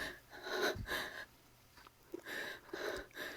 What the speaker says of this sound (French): Sa respiration est rapide.